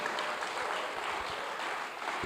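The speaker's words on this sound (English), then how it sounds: "Please, can we give her a round of applause so that she can hear in Kenya?" An audience at the CFA Institute Africa Investment Conference 2023 claps steadily, producing a dense, even wash of applause from many hands without pause.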